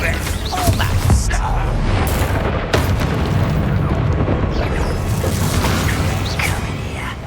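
Fire-spell blasts from Hogwarts Legacy on Xbox Series X, booming bursts within a dense, continuous wash of game combat noise, with a sharp hit near three seconds and a voice talking over it.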